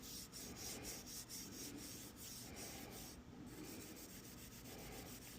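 A surface eraser lightly scuffs a Japanese knife to remove corrosion, producing a steady, soft, close rubbing texture with quick repeated strokes throughout.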